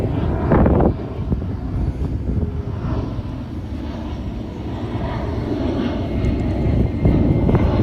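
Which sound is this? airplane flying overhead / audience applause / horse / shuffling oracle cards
airplane flying overhead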